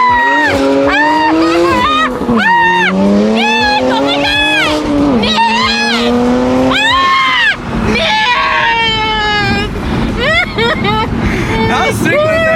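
A BMW M3 doing drifting donuts, engine howling and rising and falling in pitch with tire squeal, loud and continuous, while people scream and shout over it.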